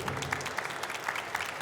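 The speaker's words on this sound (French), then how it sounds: "Applaudissements s'il vous plaît." Brief burst of steady audience clapping at a conference at Japan Expo 2025, a dense patter of many hands filling the room without pause.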